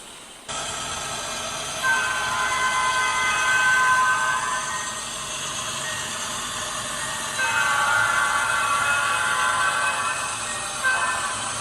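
An HO scale model train runs through a miniature downtown Saluda on a layout of the Saluda Grade, a steady close rumble of wheels on track with hissing, whistle-like tones that swell and fade.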